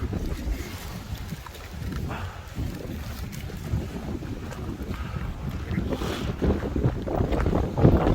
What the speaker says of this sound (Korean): 정상에는 강한 바람이 불어 엄청 춥습니다.